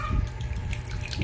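Palabok sauce is poured over pancit noodles, a continuous wet gushing and splashing that stays close and fairly loud throughout, with no talking.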